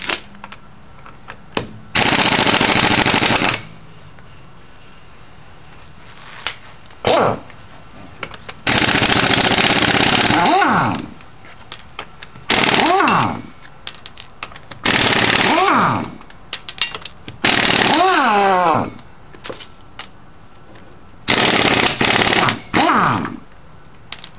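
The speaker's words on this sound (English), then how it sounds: "We're going to take off the lug nuts now." An impact wrench zips off the lug nuts of a Pontiac Grand Prix wheel during a brake job: six loud, close bursts of rattling whir, each a second or two long, separated by quiet gaps.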